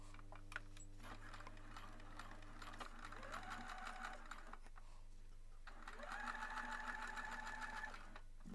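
A domestic sewing machine stitches the side seams of a longline bra, running in two steady bursts of rapid needle clatter with a brief pause between them, close and alone.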